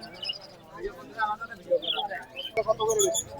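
Budgerigars and other caged birds at a crowded pigeon market, chirping and tweeting in quick bursts beside close conversation, with busy market voices all around.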